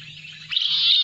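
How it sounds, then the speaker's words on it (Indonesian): A golden bulbul song played back through a small speaker: a bright, whistled phrase rising and holding for about half a second, loud and clear over a faint low hum, with no talking. "Ini kutilang emas, mantap ya, kutilang emas."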